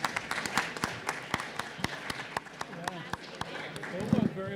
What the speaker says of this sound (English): A big round of applause for the Kane County employees for putting this whole thing together.